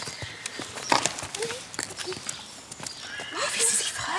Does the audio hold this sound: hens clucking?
no